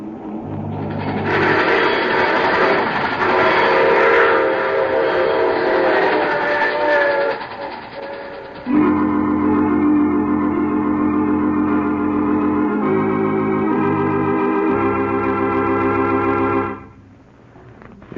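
A loud train rumbles past with a long blaring horn, steady clickety-clack and rolling mechanical drone, then the sound cuts off abruptly at the end.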